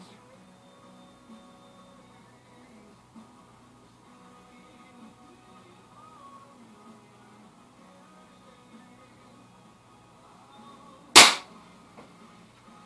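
A single sharp pellet shot from a Crosman 2100 air rifle firing RWS pellets cracks out once, loud and close, against a quiet background with a faint steady hum.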